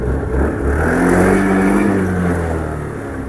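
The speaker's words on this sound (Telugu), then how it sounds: "వెహికల్ ఇంజన్ బీట్ కూడా ఒకసారి మీకు స్టార్ట్ చేసి చూపిస్తాను." A Honda Activa BS4 scooter's engine runs steadily at a smooth, even idle, close by and fairly loud, with a slight rise in revs midway.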